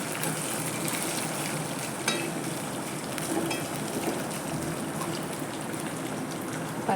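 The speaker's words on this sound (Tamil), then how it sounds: "இது எல்லா இட்லியுமே போட்டுட்டேன் போட்டு கொஞ்சம் நல்லா ஃப்ரை பண்ணி வச்சுக்கலாம்" Leftover idli pieces frying in oil for a snack, a steady moderate crackle and sizzle that runs the whole time, with faint stirring clinks now and then and no talking.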